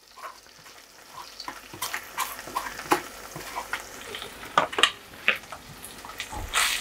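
Blended onion fries in ginger garlic paste in a pan, giving a steady close sizzle with sharp crackles and stirring scrapes that rise and fall, with no talk over it.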